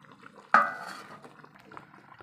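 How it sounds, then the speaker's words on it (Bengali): Chicken pieces dropped into a hot pan for chilli chicken, a single sharp metallic clatter followed by a fading sizzle and faint kitchen rustling. "দেখুন এবার মাংসগুলো আমি দিয়ে দিচ্ছি।"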